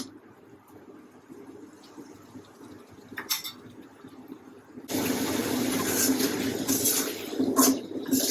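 Water goes into a hot pan of frying eggplant and lentil bori, and a quiet low sizzle jumps abruptly into a loud, steady hissing and bubbling sputter that continues to the end.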